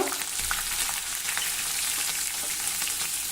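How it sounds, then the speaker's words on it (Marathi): Green chili pieces and a pinch of asafoetida sizzle steadily in hot oil with fried peanuts, a loud, continuous crackling tempering for raw-mango rice, with no talking. "आता यामध्ये चवीनुसार हिरव्या मिरचीचे तुकडे घालूया चिमूटभर हिंग"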